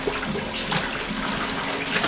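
Strong running water gushing from a household tap or hose at a house, a steady loud rushing flow that continues throughout with no talking.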